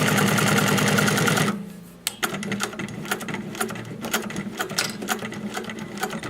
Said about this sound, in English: Nice slow stitching if I want.